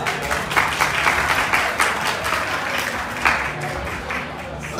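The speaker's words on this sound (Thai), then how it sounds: "ถ้าสวยขอเสียงตรงมือเลยครับ" An audience applauds a hired performance of Thai four-region dances in Rayong, a dense and continuous wash of clapping that stays loud throughout and rises slightly near the end.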